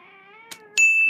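A cartoon cat from The Simpsons lets out a short yowl among other animated sound effects, followed by a sharp metallic ding and a ringing tone.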